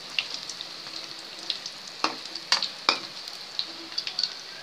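Onion bondas frying in oil, a soft steady sizzle broken by several sharp clinks and scrapes as they are turned over, close and fairly quiet.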